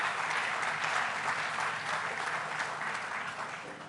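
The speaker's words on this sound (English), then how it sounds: "Let's give a big round of applause to the entire Tribeca team who really did a great job." A crowd applauds the Tribeca Film Festival team, a thick, even wash of clapping that holds steady before fading gradually toward the end.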